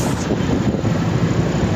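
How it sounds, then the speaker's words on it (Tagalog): Steady, loud wind roaring and buffeting throughout, a dense low rumble with no voices. "Lakas ng hangin."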